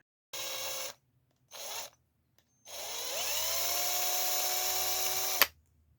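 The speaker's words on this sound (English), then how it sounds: "Pin drill first and try to get that nice and straight." A small pin drill whines in two short bursts while drilling a pilot hole in a 1/8 scale Porsche 917K model kit, then runs steadily for about three seconds, its pitch settling as it spins, before cutting off sharply.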